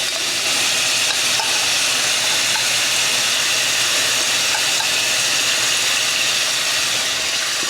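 Ground turkey with garlic and spices cooks in an oiled pan, giving off a steady, even sizzle and hiss that runs unbroken throughout with no talking.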